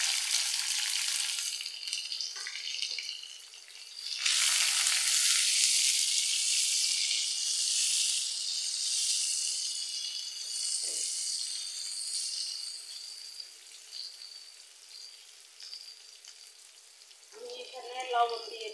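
Chopped onion and tomato fry in a hot pan for a chicken bhuna with satkara, giving a steady, close sizzle that swells loudly after a few seconds and keeps hissing throughout, with brief clinks near the end.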